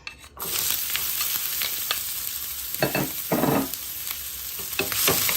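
Onions frying in a little oil for a peppered gizzard dish: a bright, steady sizzle close by with a few scraping stirs in the middle, no voices.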